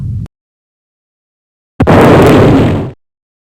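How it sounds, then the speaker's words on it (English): A starship fires its starboard missiles in a sci-fi battle against a flanking scout, and a single loud, broad explosive burst booms for about a second after a brief opening thump and a pause of silence. "Starboard missiles, fire!"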